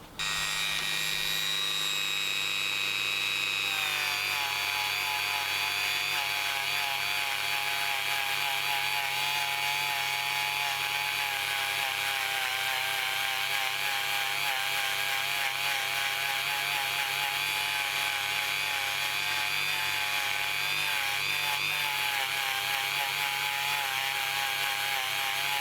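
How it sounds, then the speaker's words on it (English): Steady high-pitched whirring of a copper wire brush spinning on a power tool, scrubbing a straight razor blade during restoration, continuous and loud for the whole stretch with a slight change in tone after the first few seconds. "just use one of these copper brushes"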